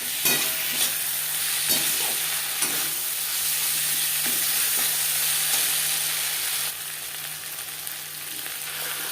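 Onion, tomato, ginger and green chili paste stirred in a hot pan for egg curry, a continuous loud frying sizzle with occasional scraping knocks of the spoon, close up and without speech.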